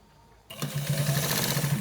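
A sewing machine stitching a white trouser with hard stiffening inside starts up after a quiet moment and runs in a steady, rapid hum of stitches, close by.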